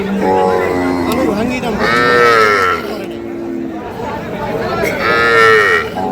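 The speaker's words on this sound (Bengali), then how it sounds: "আমবাড়িহাটের যে গরুগুলো ক্রয় বিক্রয় করা হচ্ছে" Several cattle, including Sahiwal, Sindhi and local dairy cows with calves, moo loudly and close by at a livestock market, long drawn-out calls repeating in a busy outdoor setting with faint chatter in the background.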